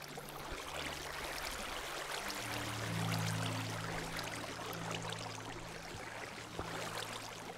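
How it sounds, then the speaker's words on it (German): Flowing water in the video game Minecraft makes a loud, steady broadband rush that fills the whole clip, with a faint low tonal hum swelling in the middle. "Boah, ist das Wasser laut."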